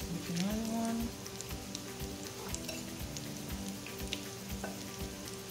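Steak egg rolls frying in vegetable oil, a steady close sizzle and crackle with scattered pops throughout, and a short voice-like tone near the start.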